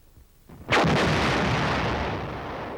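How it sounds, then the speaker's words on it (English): An artillery gun fires a single loud, close blast whose deep boom rolls on and slowly fades for about two seconds, with no voices. "the artillery, to improve his chances by blasting a path through enemy defenses"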